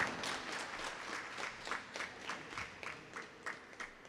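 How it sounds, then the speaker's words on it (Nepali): An audience at the opening ceremony of a Nuwakot construction business association's annual general meeting claps together. The claps come in fairly even, rhythmic bursts, heard at moderate distance and somewhat faint. "एकपटक ताली बजाएर सम्मान गरिदिनु हुन म सम्पूर्ण महानुभावहरूलाई हार्दिक अनुरोध गर्न चाहन्छु"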